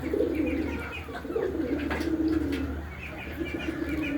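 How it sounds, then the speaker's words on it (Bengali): Pigeons coo in low, repeated throaty calls close by, with faint chirps and a steady background hum. "এটা কীরকম ডাকে তো দেখতে পাচ্ছেন এখানে ডাকতেছে"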